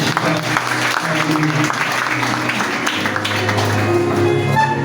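A church congregation claps and cheers together in a loud, steady wave of applause that lasts throughout, with music and voices mixed in.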